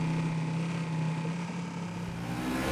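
A police motorcycle engine is held at a steady high rev around 4,000 rpm, a loud continuous drone close to the listener with no speech.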